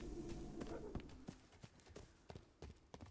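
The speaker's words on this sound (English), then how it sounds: "I do think I hear footsteps" Footsteps in the video game Dark and Darker: a string of soft, uneven thuds and clicks, fairly faint, over a low rumbling background.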